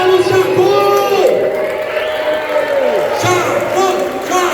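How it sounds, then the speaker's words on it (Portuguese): A crowd at a metal show in Santos cheering and shouting for a band member, loud and close, with voices rising and falling over a continuous roar of the audience. "recebam uma grande salva de palmas aqui na cidade de Santos, do Pelé"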